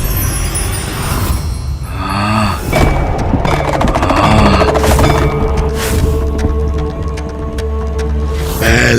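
Explosion sound effect in a mythological Hindi TV series, a loud booming blast with rumbling, crackling bursts that carry on for several seconds, dense and sustained with no talking.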